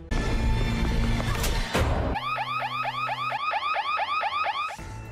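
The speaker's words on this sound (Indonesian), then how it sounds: "Dengan menyalakan alarm bahaya" A street emergency alarm wails in a rapid repeating warble of rising and falling tones after a couple of sharp thumps, loud and close, cutting off abruptly near the end.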